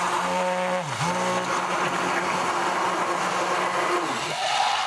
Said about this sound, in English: a stick blender like this one. This is an all-clad.